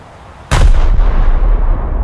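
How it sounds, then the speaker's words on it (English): Cruiser casemate guns fire in War Thunder, a single loud booming blast that hits suddenly and then rolls into a long, rumbling decay. "That's why we get those other casemate guns to fire too."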